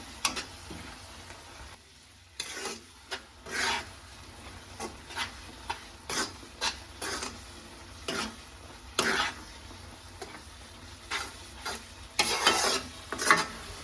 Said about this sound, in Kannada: ಇವಾಗ ಶೇಂಗಿನ ಪುಡಿನ ಹಾಕ್ಕೊಂಡು ನಾನು ಇದನ್ನು ನೀಟಾಗಿ ಮಿಕ್ಸ್ ಮಾಡ್ಕೊಳ್ತೀನಿ.